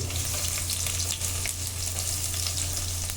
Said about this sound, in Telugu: ఈ విధంగా ఉల్లిపాయ కలర్ చేంజ్ అయ్యే వరకు కూడా వేయించుకోండి